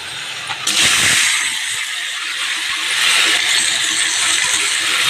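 Chicken meat hitting a pan of lightly fried onions sets off a loud, sudden sizzle that holds steady as a broad hiss, with no talking.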